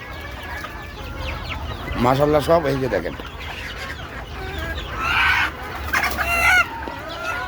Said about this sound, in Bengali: আমার সুস্থ মুরগি